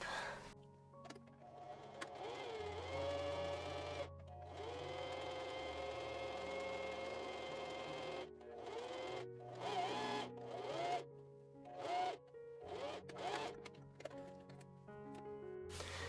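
Electric sewing machine stitching two crocheted pieces together for a sphere-shaped pet toy or hacky sack, running in long steady motor bursts broken by brief stops, loud and close with no talking.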